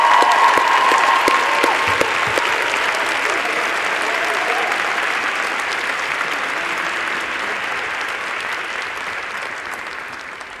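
Sustained applause from a graduation ceremony audience honoring the graduating class, dense and steady throughout, gradually fading slightly toward the end, with a few murmured voices beneath.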